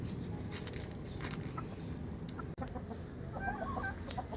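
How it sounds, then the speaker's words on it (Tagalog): A golden sweater gamefowl hen with pea comb and yellow legs clucks up close, giving several short rhythmic clucks amid faint farmyard background noise. "eto na si Miss Universe, isa siyang golden sweater"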